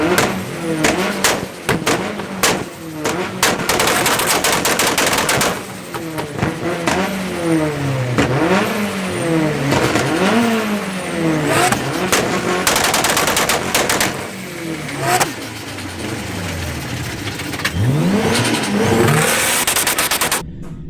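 A K24 turbo Silvia on launch control holds its engine against the limiter, with loud, rapid popping bangs and crackles under repeated rising and falling revs that continue for about twenty seconds.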